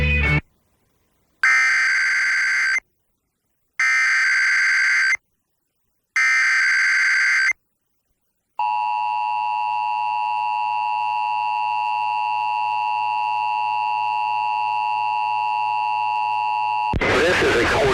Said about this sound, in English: This is a coordinated test of the emergency alert system.